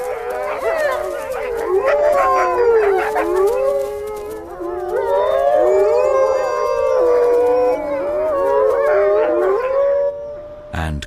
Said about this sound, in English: Wolves need this joint howling to encourage each other before a hunt.